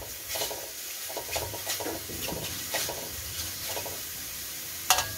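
Enoki mushrooms crackle and sizzle softly as they dry-roast in a hot pan, with repeated scraping stirs of a utensil and a sharp clink near the end.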